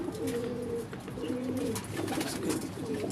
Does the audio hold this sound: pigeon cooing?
yes